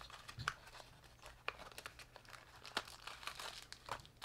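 A plastic bag crinkles as a Lekato TM-25 clip-on metronome tuner is unpacked, giving close, irregular rustles and sharp crackles throughout with no talking.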